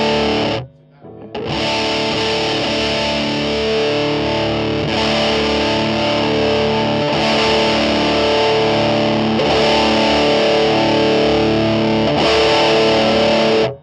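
Heavy fuzz distortion from a modded Big Muff pedal with the mids boosted, a thick sustained guitar tone that starts after a brief gap and plays loudly throughout, with short dips at a few phrase changes.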